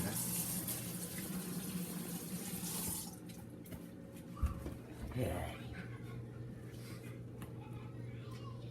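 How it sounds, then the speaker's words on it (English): Water gushes from a kitchen tap during hand washing, a loud steady splash that cuts off after about three seconds, leaving faint drips and small movements while a person talks. "I need to wash my hands again"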